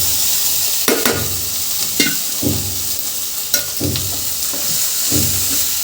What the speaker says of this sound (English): now this is the high time to add the rice